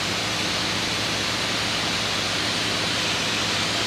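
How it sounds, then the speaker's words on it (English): Loud, steady broadband hiss of intercom noise in a T-6 Texan aircraft from the radio trigger being held, continuous and unchanging throughout, no speech. "If you hear all that noise in your ear, yeah, that's because you're holding the trigger."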